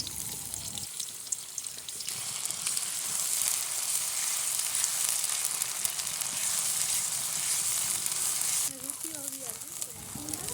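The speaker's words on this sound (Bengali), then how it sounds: "তেল গরম হলে দিব পেঁয়াজ বাটা।" Onion paste dropped into hot oil for a village fish curry, a loud steady sizzle and hiss that swells and holds, with someone talking over it near the start and end.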